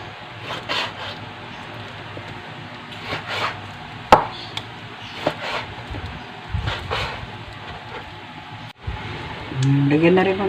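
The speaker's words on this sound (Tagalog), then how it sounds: "Iwa-hiwain lang po ganyan yan. Ang ating pork lomo." A knife chops pork loin (lomo) for salpicao on a board with a few scattered, soft knocks, heard under a person talking.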